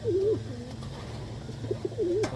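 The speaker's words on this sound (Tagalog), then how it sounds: "Solid na yung ibon na to guys." A pigeon coos nearby in two rolling, throaty phrases, with a couple of short soft notes between them, over a low background hum.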